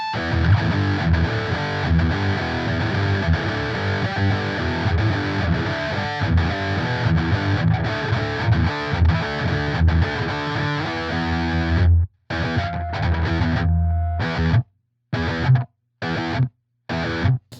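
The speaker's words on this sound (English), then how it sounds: "I'm basically just doing a few quick strokes and palm muting to see how quickly it's going to cut that sound off." Heavily distorted electric guitar chugging palm-muted riffs through a Pigtronix Gate Keeper noise gate, loud and dense, ending in quick choppy strokes that the gate cuts to abrupt silence between hits.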